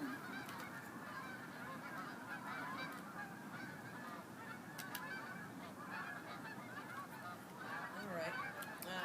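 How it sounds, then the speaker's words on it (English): Migrating geese honking overhead, a chorus of repeated honks from several birds that keeps going, distant and faint, with no one speaking. "That's just some geese migrating."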